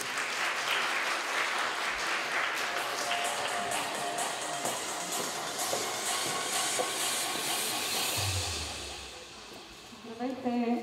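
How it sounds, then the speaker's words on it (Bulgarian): Sustained applause from an audience at a school event in Stara Zagora, dense steady clapping filling most of the clip before tapering off near the end. "Моля вашите аплодисменти."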